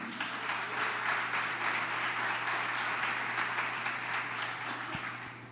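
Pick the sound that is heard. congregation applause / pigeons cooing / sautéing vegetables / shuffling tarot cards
congregation applause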